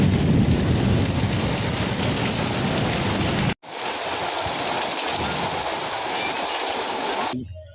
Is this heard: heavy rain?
yes